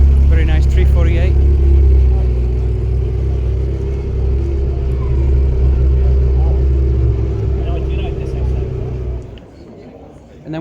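A Ferrari 348 drives past on an Auckland street, its engine a loud, steady rumble that holds for several seconds before fading away near the end.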